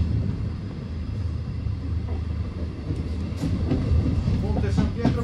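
Italian MD passenger carriages running fast along the rails, with a steady, loud rolling rumble and faint rhythmic clatter from the wheels that continues throughout.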